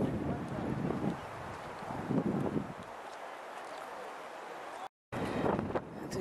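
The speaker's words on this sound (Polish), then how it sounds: "Wiatr trochę wieje, będzie pewnie przeszkadzało." Gusty wind buffets the microphone with low rumbling bursts, easing in the middle and briefly cutting out before picking up again.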